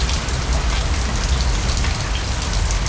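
Heavy rain pours down steadily, a dense, loud, close hiss with no pauses and no voices.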